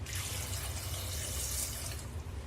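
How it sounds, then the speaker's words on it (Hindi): About one cup of water pours into a pressure cooker holding soaked chickpeas, a steady, close splashing stream that runs unbroken for the whole stretch without pause. "1 कप के करीब हम पानी डालेंगे।"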